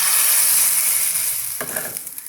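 Chili powder dropped into a hot tempering of fried seasoning for a Kerala pacha pindi theeyal gives a loud, steady, close hiss of sizzling oil that softens toward the end, with a few light stirring clicks.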